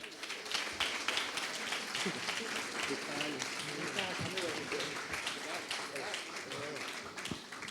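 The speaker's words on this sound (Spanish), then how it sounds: "le podemos recibir con un aplauso muy fuerte" Audience applause welcoming a guest, a film specialist, at a tenth-anniversary event, steady and sustained throughout with voices murmuring over it.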